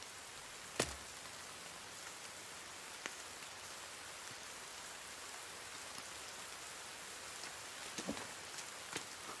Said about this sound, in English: And there's lightning and there's rain.